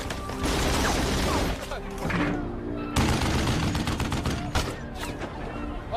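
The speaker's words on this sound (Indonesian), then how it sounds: "pasukan tim SWAT segera membalas tembakan tersebut" Dense bursts of rapid gunfire from a SWAT team firefight in the film Mosul rattle back and forth, loud and close, with brief pauses between volleys and a mechanical clatter mixed in.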